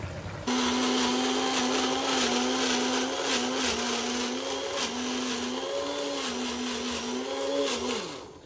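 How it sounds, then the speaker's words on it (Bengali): A small Prestige mixer grinder whirs steadily at close range for about eight seconds, its motor whine wavering slightly in pitch before spinning down at the end, with no voices over it. "অনেকেই জিজ্ঞেস করো যে এই ছোট মিক্সিটা কিসের? এটা প্রেস্টিজের"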